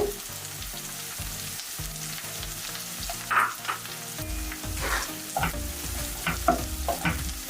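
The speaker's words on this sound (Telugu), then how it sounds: "క్యాప్సికమ్ అయితే ఎక్కువగా ఫ్రై అవ్వాల్సిన అవసరం లేదు, లైట్గా ఫ్రై అయితే సరిపోతుంది" Capsicum is stir-fried in a pan for veg Manchurian, a moderate sizzle broken by repeated rhythmic scrapes and clanks of a spatula tossing the pieces, with no voices.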